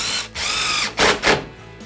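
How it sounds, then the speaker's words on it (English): A cordless impact driver drives a screw: a steady whirring run of the motor, then two quick loud bursts of rapid hammering as the screw seats, close and alone. "Now let's talk about the impact driver."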